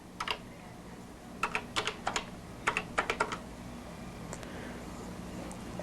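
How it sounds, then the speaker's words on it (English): Keys clatter on a Color Computer keyboard in short irregular bursts, a few clustered keystrokes at a time with pauses between, close and fairly quiet with no voices. "at the question mark, type a word or sentence"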